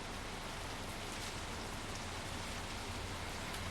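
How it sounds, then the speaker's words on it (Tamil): Steady rain hisses as a dense, even wash of noise in a bus simulator game, constant and unbroken with no voices. "மழை ஆரம்பிச்சு"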